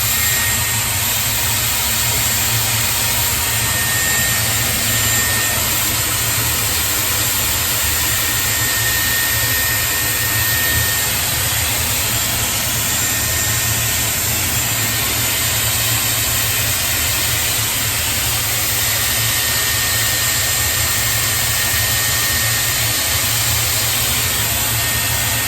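A Dyson Airwrap hair styler runs steadily at close range, a loud continuous high-pitched whine and airflow roar with a steady low hum, unbroken for the whole stretch with no talking.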